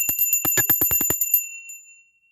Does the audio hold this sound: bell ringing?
yes